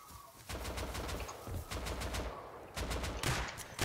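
Repeated gunfire in the survival video game Rust, sharp rapid shots in clustered bursts, some like automatic fire, loud and close against a busy background.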